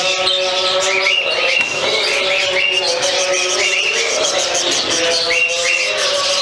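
Continuous busy chirping and squawking from cockatiel breeder pairs with chicks and a budgie colony, many birds calling at once, close and fairly loud.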